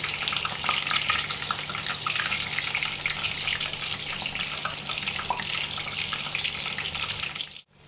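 Pumpkin flower fritters fry in hot oil with a steady, dense sizzle that holds evenly throughout, close and fairly loud, with no voices, before cutting off abruptly at the very end.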